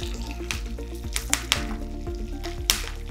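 Mustard seeds, cumin, curry leaves and chopped ginger sizzling in oil for pulihora, a crackling hiss broken by several sharp spatula clicks, with a faint steady hum behind.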